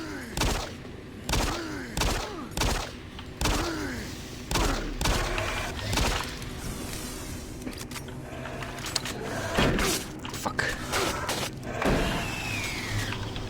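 Shotgun blasts in the game DOOM 3: Lost Missions, about ten sharp, booming shots at irregular intervals over a steady mechanical hum, loud and close.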